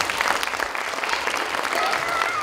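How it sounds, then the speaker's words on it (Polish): Steady, dense applause from an audience at a puppet theatre event, sustained and even throughout with a faint whistle or voice tone drifting above it. "więc brawa do Małgosi Wolańskiej."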